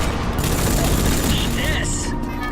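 Pistol gunfire in the Rogue Trooper Redux combat game: a steady, loud stream of shots and blasts under dense game noise and background speech, continuing through the whole stretch without a break.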